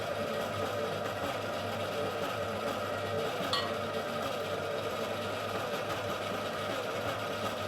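A stand mixer fitted with a paddle works dough at a steady, continuous motor whir with faint rhythmic knocking, alone and fairly close.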